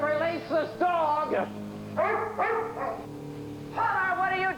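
A dog barks and yelps indoors in three separate bursts of long, pitch-bending, whining barks, fairly close and loud, with quieter pauses between them.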